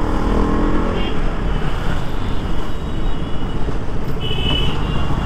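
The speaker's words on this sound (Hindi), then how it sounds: "RC is fun to ride, मतलब ये बाइक मुझे काफ़ी मज़ा आता है चलाने में।" A KTM RC motorcycle, ridden on the road, produces a loud continuous engine drone mixed with heavy wind rush, heard close and steady throughout with no talk over it.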